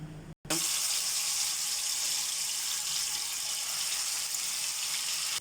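Marinated chicken frying in hot oil in a pan gives a steady, loud broadband sizzle that runs almost the whole time after a brief gap near the start, with no talking.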